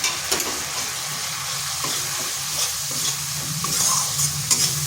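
Ground cumin, coriander, chili and turmeric fry in a pan with a little water for an eggplant and split chickpea dish, giving a steady close sizzle broken by scraping stirs, with no voices.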